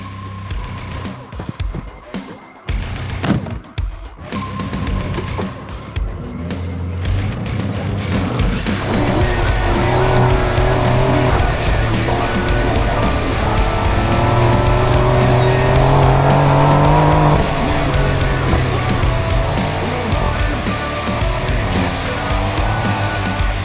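Porsche 911 Dakar driving off-road on Sahara Desert sand dunes, its engine rising from quieter rumbles into a loud, sustained, climbing drone that swells and shifts pitch as it accelerates.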